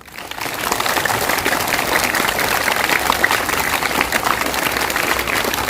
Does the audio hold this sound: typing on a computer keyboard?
no